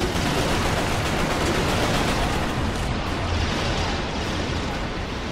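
Sustained, dense gunfire in the video game Resistance, a loud continuous roar of shots and blasts filling the whole stretch with no clear gaps and no talking.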